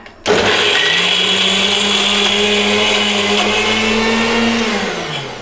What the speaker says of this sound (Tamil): இஞ்சி பூண்டு அரைச்சிட்டு இருக்கிறேன்